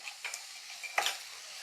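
Sliced onions sautéing in a pan for a beef vindaloo, a soft, faint sizzle with two or three light scrapes and clicks of a stirring utensil, brief and close, no talking.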